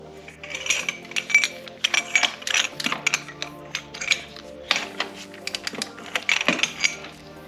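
Metallic ratcheting and clinking of a socket wrench working loose the rear wheel bolts on a Kawasaki Ninja H2 SX motorcycle, close up and in busy irregular bursts.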